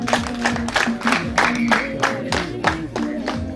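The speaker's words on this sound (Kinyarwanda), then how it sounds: "amashyi menshi cyane" A crowd at a Rwandan wedding ceremony claps in a steady, rhythmic beat. Voices call out over the clapping.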